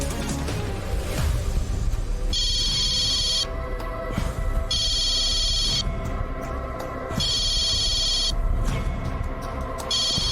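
A telephone ringtone rings in repeated bursts over a loud, busy background of music and noise in a Tamil TV show scene.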